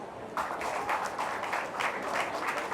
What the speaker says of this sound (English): all of us must clap for this